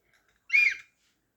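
One short, soft whistle tone sounds clearly and alone, lasting under half a second in a quiet room.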